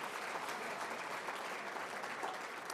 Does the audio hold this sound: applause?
yes